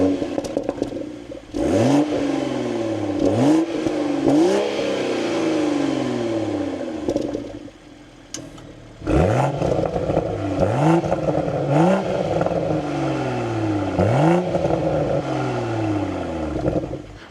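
A BMW Z4 M40i engine starts and revs in neutral, with repeated sharp throttle blips rising and falling in pitch over a steady idle, loud and close, pausing briefly before another series of revs.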